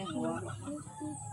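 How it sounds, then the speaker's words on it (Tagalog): Chickens clucking nearby in a short, soft burst of several clucks, with faint background sounds. "Kumana kong pagkaon sa mga manok."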